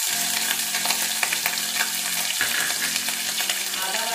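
Ginger paste sizzling in hot oil in a pan for chhana dalna, a dense continuous frying hiss close up with light stirring scrapes and no talk.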